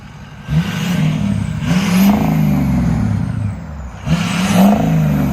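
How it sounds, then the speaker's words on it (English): Ford F-350 Powerstroke diesel pickup engine revving in repeated bursts, each climb carrying a faint turbo whistle above a deep, rumbling idle, close and loud. "You can actually hear the turbo a little bit."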